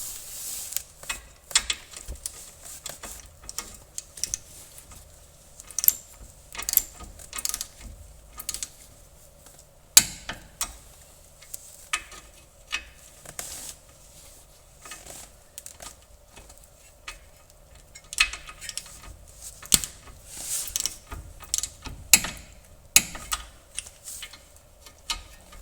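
A ratchet tightens the lower ball joint bolts on a Volkswagen Golf mk4 TDI during a CV axle replacement, giving close, crisp clicking in repeated bursts with short pauses over a long stretch.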